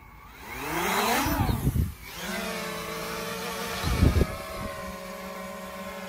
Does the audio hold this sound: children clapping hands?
no